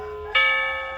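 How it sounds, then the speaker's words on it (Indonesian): A wall clock melody chime rings two bright tones: a softer first note, then a louder, higher ding that rings out and slowly fades. "Ini cuma ting tong ya."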